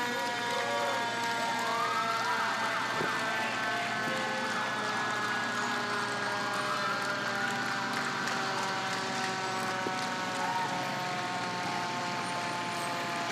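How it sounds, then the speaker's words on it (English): A Royal Oak Fire Department engine sounds its siren during a Memorial Day parade, with slow rising and falling wails over steady engine rumble and a busy outdoor crowd. "We have the Royal Oak Fire Department ladder truck."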